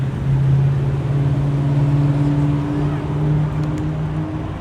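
A car engine near Los Angeles International Airport gives a steady, close, low drone that holds evenly throughout, with no clear pass-by swell.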